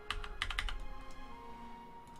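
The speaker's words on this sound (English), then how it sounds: "Well, no, keyboard's still working." Computer keyboard keys clack in a quick cluster of several close, crisp presses, then a couple of lighter taps, over a faint background hum.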